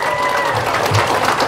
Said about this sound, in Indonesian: Sekali lagi tepuk tangan untuk Indonesia.